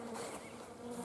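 Honey bees buzzing at the comb of a package hive, a steady faint hum of many wings close by for a brief moment.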